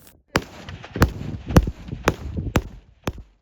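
A series of sharp, loud gunshots fired next to a soldier at irregular intervals, about six cracks, each snapping out over a low rumbling background.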